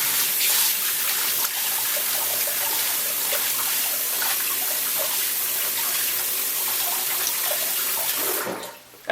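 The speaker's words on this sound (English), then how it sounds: "I'm going to put a little bit more hot water in my sink here" Hot water running from a tap into a sink, a steady close hiss of flowing water that continues evenly and then cuts off near the end.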